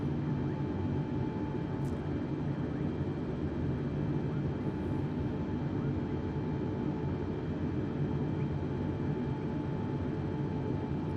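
A Boeing 747 airliner's engines drone steadily in Microsoft Flight Simulator, a continuous low rumble and hiss with no voices, near and unchanging.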